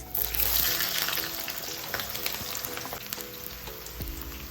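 Chopped ginger and small shallots (sambar onions) fry in hot oil for a Burmese coriander baby fish curry, giving a steady, fairly loud sizzle with an initial burst and faint scrapes, with no voices.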